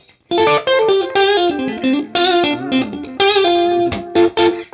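A clean Stratocaster electric guitar with chorus plays arpeggiated chords, ringing note patterns in short phrases with brief gaps, close and loud with no talking.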